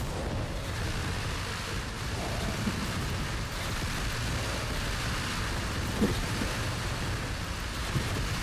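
A video game thunderstorm fills the scene with a steady rush of heavy rain and a low rumbling wash, a dense, continuous roar with faint brief cracks and no speech.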